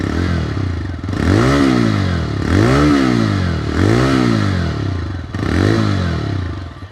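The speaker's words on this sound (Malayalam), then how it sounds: "ഇനി അതിൻ്റെ റെവ് സൗണ്ട് ഒന്ന് കേൾപ്പിക്കാം കേട്ടോ." A TVS Raider motorcycle engine revs up and falls back four times in a row, each throttle blip rising sharply then fading, loud and close with no voices.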